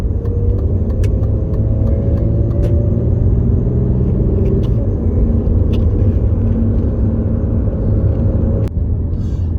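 Idling V6 engine of a 75 limousine with a manifold rattle, a loud, steady close rumble with faint intermittent ticking and rattling over the top for nearly ten seconds.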